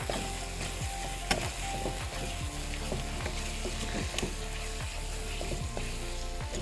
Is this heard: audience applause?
no